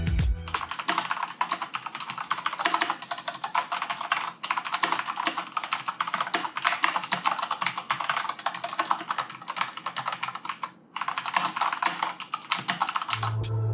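Rapid, continuous clicking of keys on a Corsair K68 RGB mechanical keyboard, close and crisp, with steady fast typing and a brief pause near the end.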